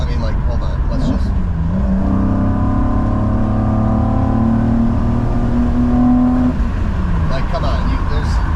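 A BMW E28 with an M30B35 six on individual throttle bodies revs up, holds a rising, raspy, loud exhaust howl for several seconds, then drops back to idle, heard close.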